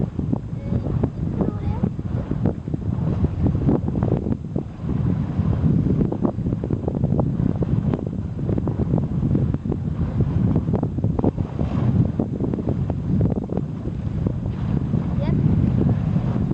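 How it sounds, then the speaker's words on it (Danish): Steady wind rushes over a sailboat under way, a continuous broadband roar filling the whole stretch, with people talking intermittently beneath it. "Der kommer lidt mere vind ned her."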